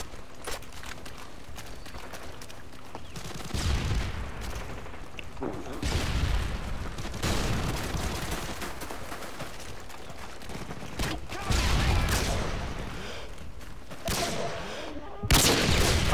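Gunfire in the video game Call of Duty: Modern Warfare 2 comes in scattered bursts of shots, fairly quiet in the mix, separated by gaps and sitting under a voice that talks throughout.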